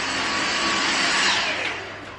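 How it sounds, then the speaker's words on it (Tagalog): A vacuum cleaner runs with a loud, steady broadband roar, close by and continuous, easing slightly in level near the end, with no voices over it. "nagpa-vacuum ang aking asawa"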